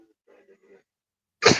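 One short, sharp sneeze bursts out loudly at the end, after a brief stretch of faint murmuring in a quiet room.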